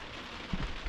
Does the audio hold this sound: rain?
yes